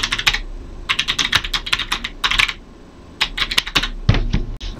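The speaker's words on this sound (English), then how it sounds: "just type in East Charmer website in our URL" Close keystrokes clatter on a computer keyboard in quick clusters separated by short pauses while a web address is entered, with no talking.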